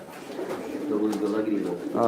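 A pair of Beauty Uma fancy pigeons gives low throaty coos at close range on a farm in Sylhet, overlapped by someone talking.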